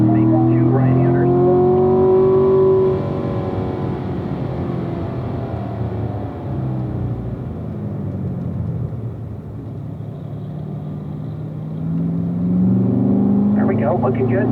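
A Corvette lapping a racetrack at a driving school, its engine a steady close rumble that rises and falls through the corners, with an instructor talking over it throughout.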